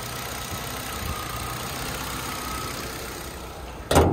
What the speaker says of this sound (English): Really quiet engine.